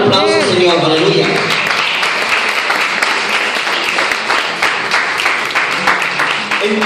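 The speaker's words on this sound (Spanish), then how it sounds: "Con un aplauso" A church congregation bursts into loud clapping and cheering during a sermon, a pastor's voice rising over the dense applause at the start before the clapping carries on steadily.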